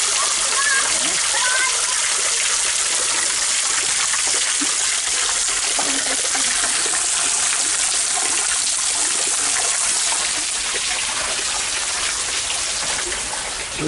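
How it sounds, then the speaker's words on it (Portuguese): A waterfall pours below a small castle in a park woodland, giving a steady, close, broadband rush of splashing water that fills the whole stretch without a break. "Essa cachoeira embaixo do castelo"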